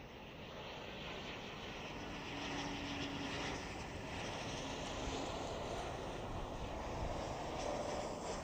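A QantasLink Embraer E190 jet arrives at Adelaide Airport, its engines a faint, steady distant rumble that swells slightly as it approaches, with no speech.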